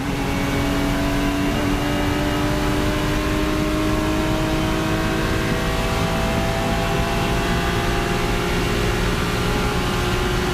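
A Porsche 935K race car engine roars at high revs out on track, a loud, continuous, droning blare that stays close and steady with no talking over it.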